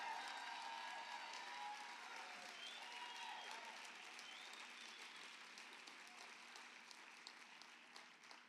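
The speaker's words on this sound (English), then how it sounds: "Clapping is good." Audience applause and some cheering at a political women's summit. It rolls on steadily at moderate volume and fades gradually toward the end, with a few shouts rising above the clapping.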